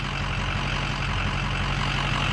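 A Ford truck straining to pull out a tree, its engine droning steadily and loud up close, with continuous rumble as the wheels dig in, no voices present.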